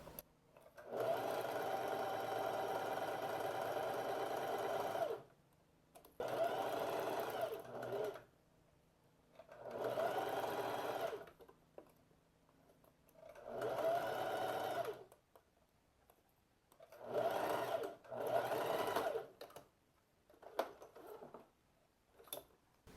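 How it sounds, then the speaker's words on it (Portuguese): Sewing machine stitching a French seam on pleated shorts, five close bursts of steady mechanical whirring separated by short quiet pauses, some shorter than others, no voices. "agora vamos costurar novamente, só que do lado do avesso"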